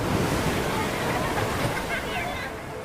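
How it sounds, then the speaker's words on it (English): Ocean surf churns around a swimmer caught in a rip current and swept out to sea, a loud, close, continuous roar with wind buffeting the microphone and indistinct voice-like babble mixed into the wash. "What you are about to hear is the sound of me drowning."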